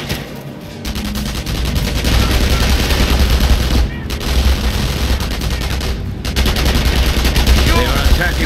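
Battle gunfire in the World War II strategy game Company of Heroes, with Wehrmacht troops fighting: loud, dense rifle and machine-gun bursts rattle almost nonstop, broken by a couple of brief pauses, with voices mixed in.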